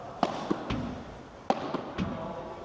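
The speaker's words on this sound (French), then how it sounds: "quand elle va taper la vitre, elle va monter. Et c'est de continuer à la taper." A padel ball strikes the glass wall of a court several times in an irregular rhythm, sharp close thuds between quieter rebounds and faint movement, with no talk.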